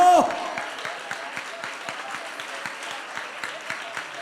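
A congregation claps steadily during a Malayalam Christian Sunday service sermon, a regular rhythmic beat of hand claps beneath a preacher's voice and a faint crowd murmur.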